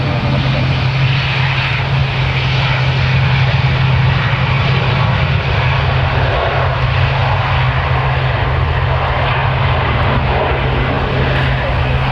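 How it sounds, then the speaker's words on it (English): A KLM Boeing 737-800 from Amsterdam arrives at Manchester Airport during a storm, its engines a steady, loud roar that holds without letup throughout. "just down the far end of the runway, just arriving, we've got KLM. It's arriving from Amsterdam. It's a Boeing 737-800."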